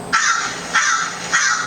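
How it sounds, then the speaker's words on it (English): A crow gives three loud, harsh caws, evenly spaced about half a second apart, close and alone with no other sounds. "Oh no, crow. Crow."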